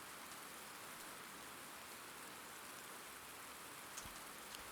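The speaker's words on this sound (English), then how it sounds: "lots of rain. You can hear it. It's very loud. Very stormy." Steady rain falls on a stormy night, a dense even hiss of drops on surfaces heard from indoors, fairly faint and continuous with no voices.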